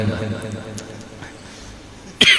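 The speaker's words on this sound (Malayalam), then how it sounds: "ഇപ്പൊ ചുമച്ചാലും പേടിയാ" A person coughs once, sharp and close, near the end, after a stretch of low background noise.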